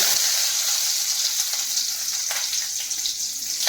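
Chopped onions and small shallots frying in hot oil for sambar, a dense, bright sizzle that hisses steadily and close throughout, with slight surges as the pieces settle in the pan.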